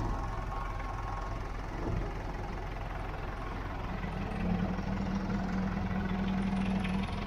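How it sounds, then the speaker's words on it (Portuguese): Large tractor engine hauling a boat at the shore in Caraguatatuba, a steady low rumble with faint idling knock running throughout, growing slightly louder near the end, heard from a short distance. "Ó, tratorzão lá puxando."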